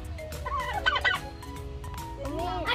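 A turkey gobbles nearby in a couple of warbling bursts, with background noise and no talking.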